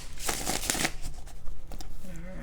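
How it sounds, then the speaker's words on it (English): Rapid papery riffling of tarot cards being shuffled, several quick bursts close to the microphone, followed by a brief pause and softer handling. "One more shuffle, you guys."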